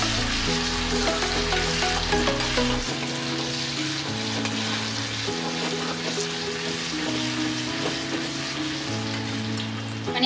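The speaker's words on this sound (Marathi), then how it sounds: "आपल्याला तेलामध्ये परतून घ्यायचं आहे आणि त्यामध्ये मी आता ही आल्याची पेस्ट टाकणार आहे।" Ginger paste sizzles in hot oil in a pan for restaurant-style Manchurian gravy, a loud steady frying hiss that runs the whole time with light stirring.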